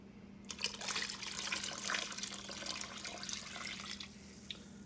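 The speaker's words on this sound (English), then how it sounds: "And now you just add water until it's filled to the limit of the Instapot." Water streams and splashes into an Instant Pot holding potatoes for a vegan curry, a continuous moderately quiet pour over a low steady hum, lasting several seconds and easing off near the end.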